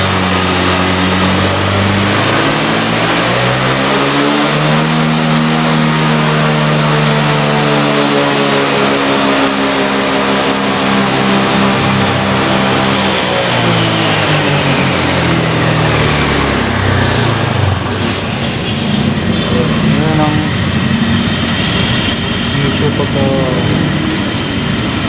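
A car engine at full throttle with a fault that makes it sputter and choke, though no blinking error code shows and the ECM won't initialize. It revs up and down repeatedly, loud and close, with the pitch swelling and falling throughout.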